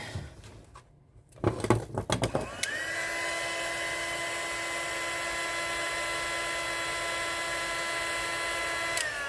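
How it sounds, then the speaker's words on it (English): After a few clattering knocks, a heat gun switches on and blows onto a paint jar lid with a steady, close, whining airflow that continues unbroken to the end. "I just got my heat gun on the lid."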